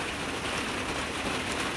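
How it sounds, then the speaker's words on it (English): Heavy rain pours over a fig garden, a dense, loud, unbroken hiss of falling water with no gaps or voices. "now this, and this is a lot of rain"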